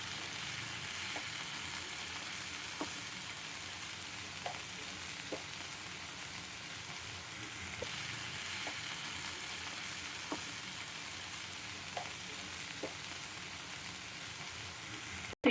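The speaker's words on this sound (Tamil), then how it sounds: "கொஞ்சம் ஸ்லோ ஃப்ளேம்லேயே வச்சு குக் பண்ணுங்கள்." Masala fish frying in a pan over a slow flame, a steady soft sizzle with occasional faint pops and stirs throughout.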